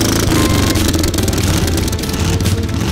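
Hot rod car engines start and rev on a beach in the Devon dunes, loud close mechanical rumbling with rising revs and a dense low throb.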